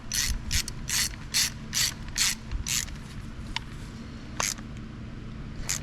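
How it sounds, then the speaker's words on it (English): Ratchet wrench tightening a bolt on a 1937 Case Model C Zenith carburetor, a series of close, crisp ratcheting bursts in a steady rhythm, then a few isolated clicks over faint background hum. "We're gonna go ahead and tighten her down now."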